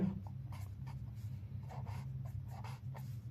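Pen scratching across paper while a 12th-class math solution is worked out, soft, close strokes in quick irregular bursts with brief pauses, steady and alone without talk.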